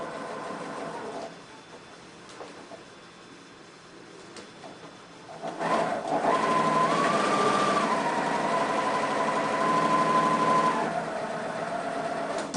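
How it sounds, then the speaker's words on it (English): Domestic sewing machine stitching quilt pieces, a steady close mechanical whirr that starts after a quieter stretch and runs continuously for several seconds before easing. "machine sew"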